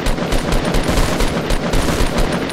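Rapid automatic gunfire from the video game Fortnite Battle Royale, loud and close, with dense repeated bursts filling the whole stretch.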